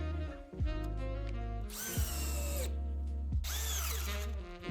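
Two cordless drills, one brushed and one brushless, running side by side on fully charged 4 amp batteries, with loud whining motor hum that steps up and down in pitch as they shift between low and high speed.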